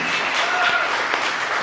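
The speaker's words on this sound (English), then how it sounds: "Can we please give our panel another round of applause?" Short burst of audience applause for a panel at an environmental justice speaker series, a steady even wash of clapping throughout.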